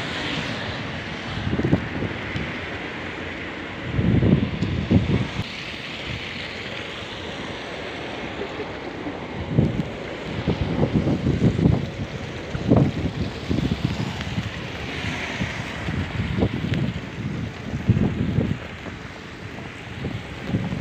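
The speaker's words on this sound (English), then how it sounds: "Now it's windy." Strong wind during a snowstorm in Halifax, Canada, buffeting the microphone in heavy, irregular gusts that roar and subside over a constant rushing background.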